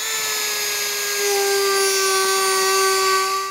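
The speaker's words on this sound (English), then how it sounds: "then come with the die grinder and just remove a little bit of this plastic" A die grinder removes plastic from a Jeep tire carrier bracket, a loud, close, high-pitched steady whine that holds its pitch and dips only slightly for the whole stretch.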